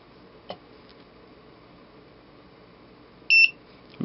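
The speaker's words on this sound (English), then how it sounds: "One beep says yes, it's in scanning mode. 2 beeps says no." Laser tripwire security alarm unit giving a short electronic beep, faint and brief, heard once near the end amid a quiet room with light ticks and clicks.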